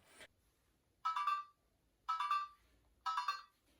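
A Sphero Indi robot toy's electronic tone plays three times in short, evenly spaced bursts, bright and beeping, with quiet pauses between each one.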